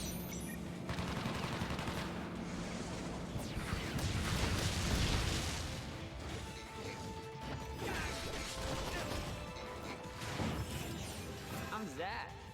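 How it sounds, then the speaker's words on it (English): An airstrike attack animation in the video game Crisis Core plays as a dense, loud barrage of rapid gunfire, crashes and mechanical clatter. It swells and rolls on for several seconds with a voice partly audible beneath it. "Oh yeah, we got an airstrike."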